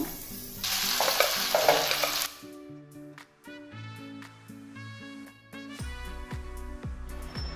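Cashews and rice frying and being stirred in a pan, starting with a loud burst of sizzling that gives way to a tonal, music-like passage with rhythmic clinks.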